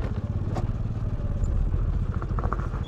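A small vehicle, likely a motorcycle, drives off-road down into a lake bed, its engine chugging in a steady low rhythm close by with light clattering over rough ground.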